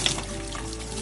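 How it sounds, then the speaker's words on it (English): Water runs steadily from a tap while dirty empty bottles are being washed, a continuous close splashing rush without any voices. "Here are some empty bottles. It's really dirty, so we have to wash it."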